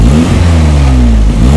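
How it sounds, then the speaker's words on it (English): A 2002 Toyota MR2 Roadster's mid-engine revs loudly and close by, its pitch rising and falling in a steady throaty drone with no voices. "you can hear the engine."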